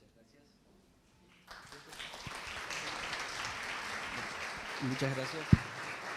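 An audience at a lecture on gender theory breaks into applause after a short quiet moment. The clapping stays steady under a brief spoken thanks and a sharp knock near the end.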